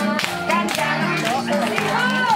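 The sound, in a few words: audience clapping at kindergarten family party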